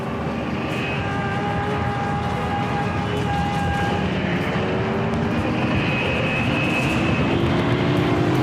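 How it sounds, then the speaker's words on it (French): A kamikaze aircraft dives toward the escort carrier USS Saint-Lô, heard as a loud, continuous engine roar with shifting whining tones that holds steady throughout, with no voices. "Son appareil s'écrase sur le porte-avions d'escorte USS Saint-Lô."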